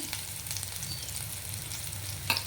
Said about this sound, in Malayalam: എണ്ണയൊന്ന് ചൂടായതിന് ശേഷം നമ്മൾ അരിഞ്ഞു വെച്ചിരിക്കുന്ന വെളുത്തുള്ളി അതിലേക്കിടാം. നന്നായി ഇളക്കി കൊടുക്കുക.